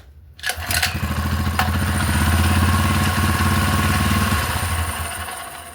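A small four-stroke engine on a bike with a handlebar kill switch is pulled into life after a couple of sputters, then settles into a loud, steady, close putter of idling that slowly eases down.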